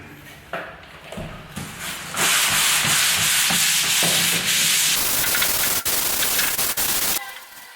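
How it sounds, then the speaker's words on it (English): Sandpaper of 120 grit is rubbed lightly over a surface, giving a steady, close, scratchy hiss with a few short strokes at first and then continuous sanding to the end. "we can now give it a light sand with 120 grit sandpaper"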